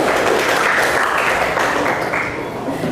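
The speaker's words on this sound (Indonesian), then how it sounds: "Tepuk tangan" Class applause in a seventh-grade social studies classroom, a dense continuous wash of many hands clapping together, steady and loud, tapering slightly at the end.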